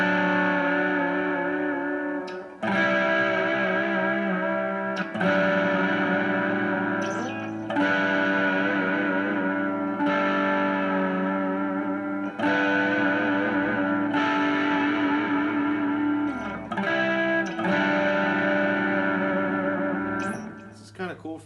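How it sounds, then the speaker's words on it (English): Electric guitar chords through a Firefly amp with a pulsing tremolo wobble and a touch of overdrive, strummed in repeated phrases over a steady stretch with brief gaps. "let's just do a couple of little tremolo things with this kind of slight dirt sounds"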